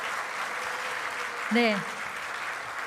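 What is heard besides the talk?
church congregation applauding teachers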